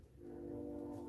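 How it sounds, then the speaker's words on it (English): A distant train sounding its horn: a faint, steady low tone, held briefly. "oh, I hear a choo-choo train."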